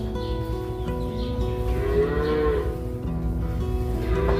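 Cattle on a farm, a cow with a young calf from a heifer, give loud, close, drawn-out moos that carry over a continuous low rumble of the herd and barn, with no talking.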